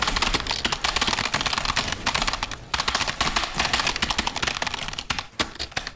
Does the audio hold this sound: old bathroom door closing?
no